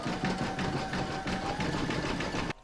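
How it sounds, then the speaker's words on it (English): An embroidery machine zigzag stitching around appliqué pieces to join a T Rex design, a steady rapid mechanical whirring chatter running continuously up close, then cutting off abruptly near the end. "You're now going to pop this back into your machine and it will carry on zigzagging around and"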